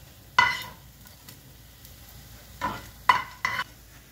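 Bread pieces for dahi vada fry in oil, a low sizzle broken by a few sharp stirring scrapes and bursts of crackle, close by and without talking.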